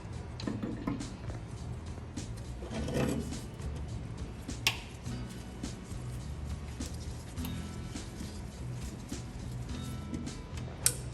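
Tools click and tap as the fuel line, manifold and carburetor come off a 1930 Ford Model A. Small metallic ticks and ratcheting sounds repeat irregularly at close range over a low background hum, with a few sharper clanks.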